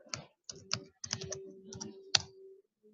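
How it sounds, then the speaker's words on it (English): Computer keyboard keys clicked in short irregular bursts while code is entered during a beginner Python programming lesson, fairly close and clear, with no talking over it. "Oops, I'm typing everything wrong."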